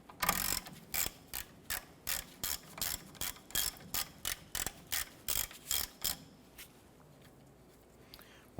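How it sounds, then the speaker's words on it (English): A hand ratchet clicks in quick, even bursts while loosening the 14mm caliper bracket bolts on the front brake knuckle of a 1993-1997 Ford Ranger, about fifteen close, crisp strokes before it goes quiet. "We're going to remove our two 14mm bolts holding our caliper bracket to the knuckle."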